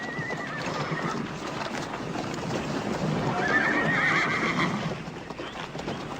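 A horse neighs loudly in two long calls while hooves clop steadily underneath, over a continuous outdoor rumble.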